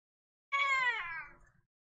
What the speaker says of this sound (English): Stop meowing at me.